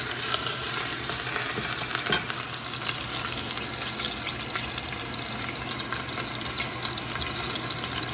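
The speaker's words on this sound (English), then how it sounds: "I am searing each of the edges" A beef pot roast sears in a thin layer of vegetable oil, giving a steady, close crackling sizzle with small pops that runs unbroken throughout, and no voices.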